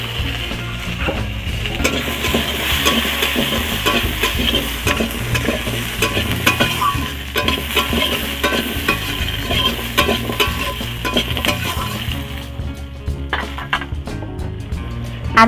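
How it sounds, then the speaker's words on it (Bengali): Potatoes frying in a kadai, stirred continuously with rhythmic scraping and knocking of a spatula against the metal over a steady sizzle, loud and close, no one speaking. "এখন এই আলুগুলো কড়াতে আমি উঠিয়ে দিচ্ছি"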